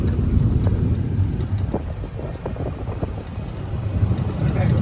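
Strong gusty wind outdoors on a rainy day buffets the microphone with a continuous low roar that swells and eases, loud and close throughout.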